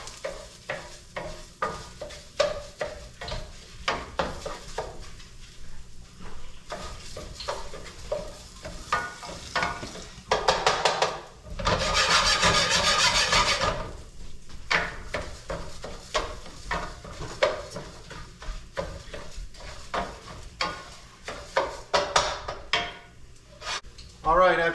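Risotto rice gets stirred with onions in a hot pan, a steady scraping shuffle with gentle sizzling throughout and a louder burst of frying partway through, under a person talking.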